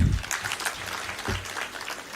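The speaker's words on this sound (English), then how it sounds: "Another round of applause." Audience applause at the 25th EAC MSMEs trade fair, a moderate wash of clapping that fades down and swells again briefly, heard from within a large hall.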